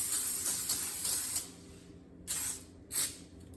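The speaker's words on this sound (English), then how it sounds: "And we will need to spray the cookie sheets." Three short bursts of aerosol cooking spray hiss onto cookie sheets, the first longer, the next two brief and separated by pauses, close to the microphone.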